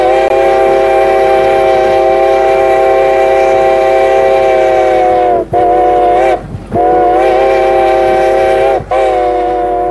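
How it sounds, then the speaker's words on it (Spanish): A loud, close locomotive horn at a level crossing blares a long sustained chord, breaks off twice briefly, then sounds again, with rail rumble beneath. "Ante un paso a nivel, oiréis dos silbidos largos."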